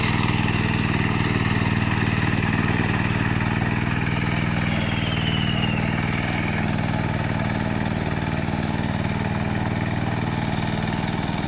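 A power weeder's small engine runs steadily and loud at close range, a constant droning chug that holds without pause throughout.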